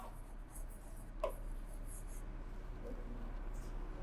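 Faint, soft scratching of writing during an accounting lesson, light strokes over a steady low background hum, with no clear talking.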